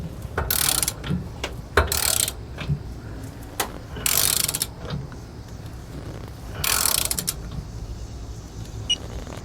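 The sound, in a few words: wrench tightening gooseneck hitch adapter bolts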